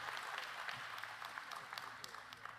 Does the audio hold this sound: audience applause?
yes